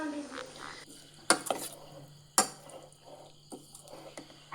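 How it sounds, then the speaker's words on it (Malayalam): Masala and cauliflower being stirred together in a pan, with a couple of sharp utensil scrapes and clinks against the metal over a soft low hum, close and fairly quiet. "എല്ലാം കൂടെ നല്ലതുപോലെ ഒന്ന് മിക്സ് ചെയ്യാം"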